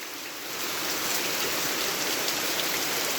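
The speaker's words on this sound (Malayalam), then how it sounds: "ഒരു രക്ഷയില്ല ഫുള്ള് മഴയാ ഇന്ന്" Steady rain falls at home on a rainy day, a full, constant hiss of drops that swells slightly after the first half second and then holds even, with no voices.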